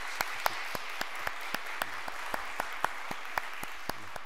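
A church congregation applauds steadily, many hands clapping in an even patter with a few sharper claps standing out, no voices on top.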